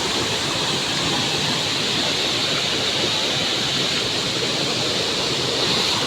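Savdav waterfall in the Konkan region pours with a loud, steady, broadband rush of falling water, constant and close, with no voices over it.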